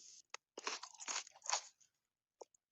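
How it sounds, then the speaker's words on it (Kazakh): Popcorn being eaten up close, several crisp irregular crunches and bites of varying loudness with brief quiet gaps, no talking. "Мен попкорн жеймін."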